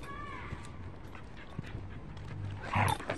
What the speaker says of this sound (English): sorry Mimi, I didn't mean to tread on you. Oh puppy, little puppy. Are you okay